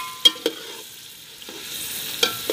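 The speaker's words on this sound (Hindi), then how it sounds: "अभी थोड़ा सा ब्राउन होने दो ना लहसुन को।" Garlic browning in a frying pan, a faint, soft sizzle with a few sharp clicks of stirring spread across a couple of seconds.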